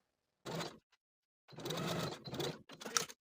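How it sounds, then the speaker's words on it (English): A sewing machine runs a narrow zigzag stitch along a tank top shoulder strap in short bursts, a quick mechanical whirring that stops and restarts several times, close and fairly quiet. "I'm just using the same size narrow zigzag I've been using for this entire garment, with my stitch width set to 2 and my stitch length set at 5"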